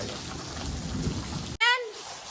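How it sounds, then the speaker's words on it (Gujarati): Steady heavy rain of a thunderstorm roars for over a second and a half, then cuts to a short loud tonal burst before the downpour resumes more faintly. "જોઈ લો મિત્રો વીજળીના તડાકા ભડાકા"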